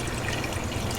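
Tap water poured to top off coolant, a continuous close splashing trickle that runs evenly for the whole moment without voices.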